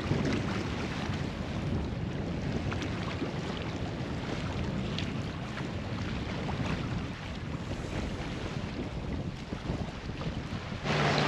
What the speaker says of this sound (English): We are motor sailing across the lagoon.